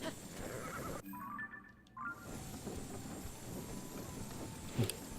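A horse in the video game Tears of the Kingdom gives a clear whinny, with faint hoof patter and a quiet game ambience around it, and a short thud near the end.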